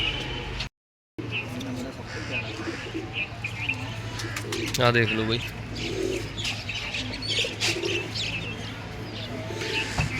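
Pigeons coo softly in a steady murmur, with chirps and a brief flutter, while someone speaks briefly nearby.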